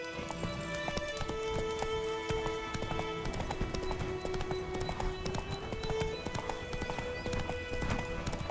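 Hooves pound in a fast, steady gallop from Roach, the horse in the video game Witcher 3, close and continuous under a sustained musical tone, with an occasional faint whinny.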